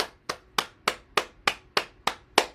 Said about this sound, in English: We're going to stimulate the heart and lungs, and by clapping first.